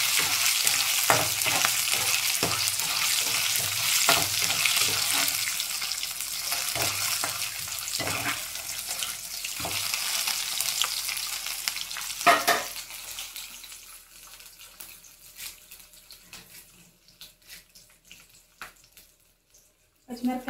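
Peanuts frying in hot oil for a rice tiffin dish, a dense close sizzle with stirring clatters that gradually quiets and thins out over the last several seconds.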